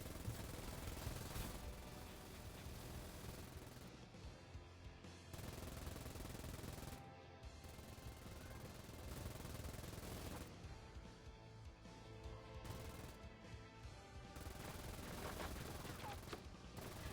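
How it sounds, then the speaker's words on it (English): Rapid automatic gunfire from a mini SMG in a mecha shooter video game, dense bursts broken by short pauses, with game effects and faint talk underneath. "We got the mini SMG bonus round going on right now."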